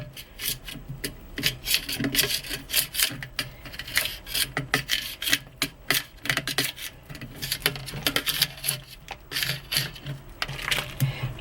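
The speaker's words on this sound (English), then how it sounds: "Be sure to scrape down the sides so that you get all of that soap in there." A utensil scrapes liquid soap down the sides of a pot during transparent soap making, giving a continuous rhythmic rasping and scraping close by with no talk.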